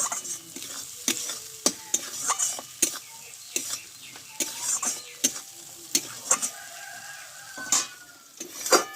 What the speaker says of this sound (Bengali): এখানে দেবো হাফ চামচ মতো ধনে গুঁড়ো এই মশলাটা ভালোভাবে কষে নেব